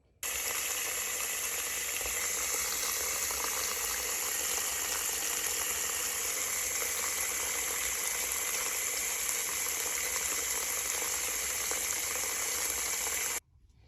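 Water pours steadily into a tub to soak freshly dyed yarn, a constant hissing, rushing stream that starts abruptly, holds even for about thirteen seconds and then cuts off, close and fairly quiet, with no talk.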